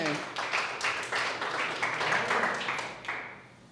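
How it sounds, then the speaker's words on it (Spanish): A church congregation claps in a soft, fairly steady patter for a few seconds, quiet and somewhat distant, with no voices over it. "Un aplauso al Jairín, que sí sabe."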